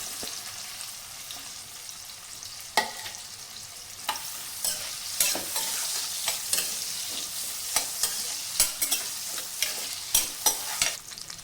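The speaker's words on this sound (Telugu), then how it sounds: "ఇప్పుడు ఇది లైట్గా ఫ్రై అయిన తర్వాత ఒక పెద్ద ఉల్లిపాయని స్లైసెస్ కింద కట్ చేసుకుని ఇందులో వేసుకుందాం" Sliced large onion frying in a pan for palak paneer, a steady close sizzle with repeated sharp scrapes and clicks of stirring throughout, no voices.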